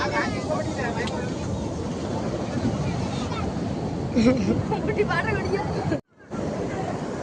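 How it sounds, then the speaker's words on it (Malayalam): Sea waves wash onto the beach at Neerody as a steady broadband rush of surf and wind. Nearby people talk over it, and the sound cuts out briefly near the end. "തിരുമാല നടിക്കുന്ന ആ ശക്തിയിൽ തന്നെ വെള്ളം കുറച്ചുകൂടെ കരയിലോട്ട് കയറും"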